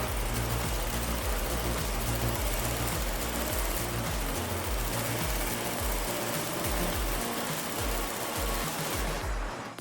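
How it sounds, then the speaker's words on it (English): A sewing machine runs a straight stitch along the pleats of a maroon kilt, making a continuous, fast mechanical whir with a steady low rhythmic chatter that carries close and unbroken until it stops at the end. "We pin the pleats and sew them with a straight stitch."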